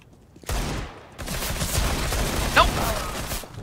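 A rapid burst of P90 submachine gun fire in the video game CS:GO, loud and dense, after a brief quieter start, with game noise and a short bright effect near the end.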